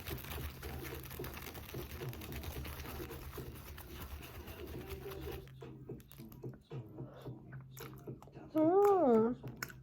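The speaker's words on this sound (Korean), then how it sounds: "사온 시리얼이랑 나또를 저녁으로 먹겠습니다." Cereal and natto eaten for dinner, with soft close chewing and crunching through the first half, followed by quieter mouth sounds and a brief voice near the end.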